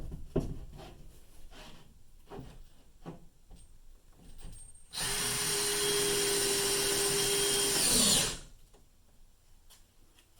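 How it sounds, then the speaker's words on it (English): A power drill driving a lag bolt through a porthole mirror, one sustained steady whir of about three seconds that stops abruptly, preceded by scattered quiet knocks and handling sounds. "Once you put that in with your drill, you can hand tighten with a wrench"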